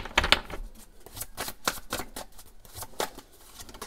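A deck of oracle cards being shuffled by hand, close up, giving a quick series of crisp riffling flutters and sharp slaps in an uneven rhythm, moderately loud with no talking.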